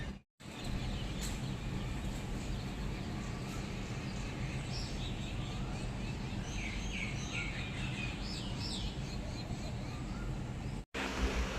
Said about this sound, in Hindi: देखिए सुबह सुबह कितनी अच्छी चिड़ियों की आवाज़ वगैरह आ रही है थी।